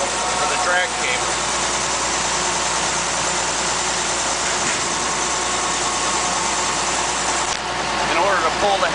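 The engine of a Bucyrus Erie 10B dragshovel runs at a steady, loud idle throughout, a dense continuous rumble with no break.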